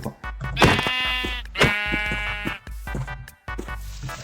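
A sheep in a video game bleats repeatedly, several loud, close, wavering cries in quick succession with short gaps between them.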